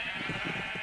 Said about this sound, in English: Move, sheep, move! Get out of my way!